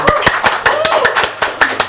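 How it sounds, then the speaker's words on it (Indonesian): Loud, close hand clapping in a quick, fairly steady rhythm, with voices talking underneath the claps. "tepuk tangan dulu untuk tim dari Skak"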